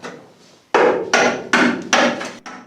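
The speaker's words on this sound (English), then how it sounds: "just chipping it away with the hammer and a flat-headed screwdriver" A hammer drives a flat-headed screwdriver to chip sound deadening off the body of an Opel Kadett historic rally car. Four loud, close, sharp metallic whacks land at a steady pace after a soft scraping lead-in.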